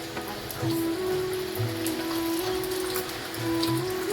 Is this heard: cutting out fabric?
no